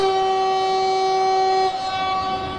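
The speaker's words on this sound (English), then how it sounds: "Oh, you want to hear the horn? You really want to hear the horn?" ÖBB 1116 electric locomotive sounding its horn in Train Simulator 2016, a loud, sustained tonal blast that cuts off near the end, leaving a softer tone.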